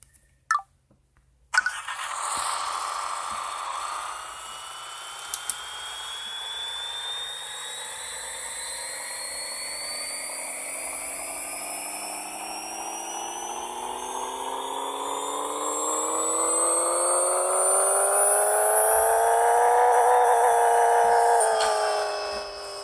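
A Mitsubishi Eclipse tuned to around 720 horsepower revving up on a dyno in the Pixel Car Racer video game, a loud synthetic engine whine climbing steadily in pitch for about twenty seconds before cutting off.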